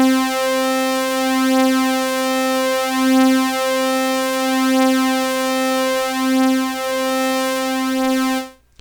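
A steady synth tone run through Fruity Flanger in FL Studio with wet and cross combined, giving a sweeping, comb-filtered whoosh that rises and falls in slow cycles for about eight seconds before cutting off.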